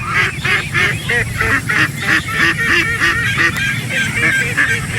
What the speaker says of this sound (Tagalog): Mga itik na yung pasaway.